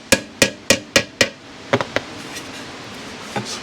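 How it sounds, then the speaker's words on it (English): Light plastic hammer taps on a metal bracket of a Yamaha 100 Trailmaster motorcycle: five sharp, evenly spaced knocks, then a few softer, scattered taps fading out, close and clear with no talking. "we'll just try the little plastic hammer here. Go at it real easy."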